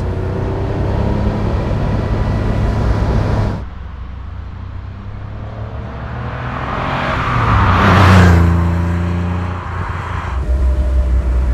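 A 1983 Porsche 911 SC Cabriolet drives along steadily, its engine a continuous low hum mixed with road and wind noise, rising into a louder surge partway through before settling back to an even cruise.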